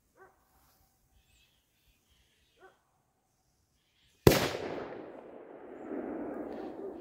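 A Funkenschlag 3 fireshow firecracker goes off on grass outdoors. Two faint short chirps come first, then one sudden loud sharp bang, followed by a few seconds of fizzing and crackling burn.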